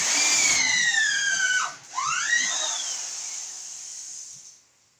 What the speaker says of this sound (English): So I'm gonna let the drill cool a bit